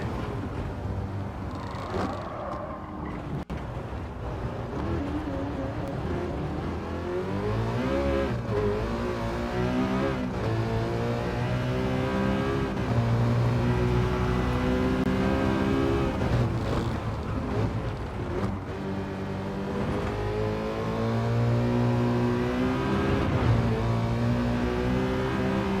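Race car engine in Gran Turismo 7 during a Citroen invitational race: a loud, continuous engine note rising and falling through repeated accelerations and gear changes, revving hard throughout.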